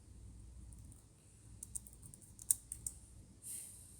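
Fast typing on a computer keyboard, a scattering of light clicks and taps with a few sharper keystrokes, faint and close under a low background hum, no talking.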